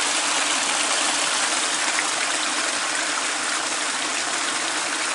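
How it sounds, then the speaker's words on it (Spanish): A stream (quebrada) flowing below a house makes a loud, constant rushing and gurgling wash of water, heard up close and alone. "Esta es la quebrada que pasa abajo de nuestra casa."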